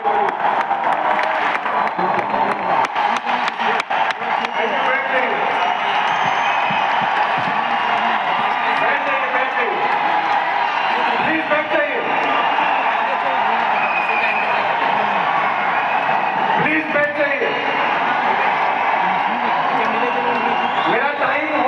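Audience applause and cheering rise in a large hall at a Vestige ambassadors' event, with dense sustained clapping, scattered whoops and crowd noise throughout, mixed with some voices.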